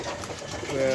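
Pigeons coo softly close by in a cage while a person talks over them.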